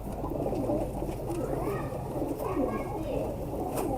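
Pigeons of a high-flying breed coo in low, continuous murmurs close by, a steady layered cooing that fills the whole stretch with no pauses.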